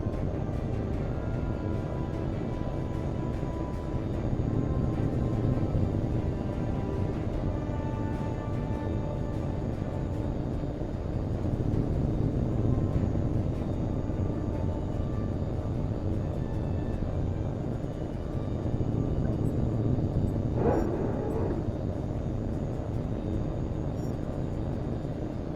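Jet fighter engines in the H.A.W.X 2 combat flight game roar steadily during a takeoff run, a loud continuous rumble swelling in waves with a brief higher whine near the end, no voices.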